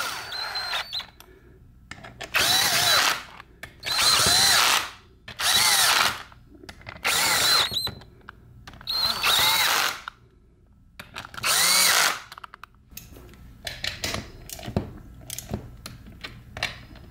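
A pneumatic air gun drives in the side cover bolts on a Muncie M20/M21/M22 four-speed transmission in repeated loud bursts of about a second each, separated by brief clicks and handling noises.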